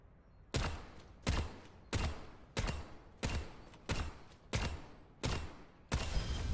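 Eight evenly spaced gunshots from the video game Overwatch, each a loud sharp crack with a short decaying tail, repeating about every three quarters of a second with no talk over them.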